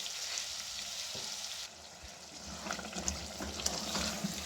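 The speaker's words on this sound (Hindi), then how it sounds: "इसमें अब 2-3 चमचे पानी डाल के तो हम इसको हल्की आग पे रख देंगे।" Keema aloo with two or three spoons of water added, simmering over a low flame: a soft, steady sizzle and bubbling with faint stirring, and no voices.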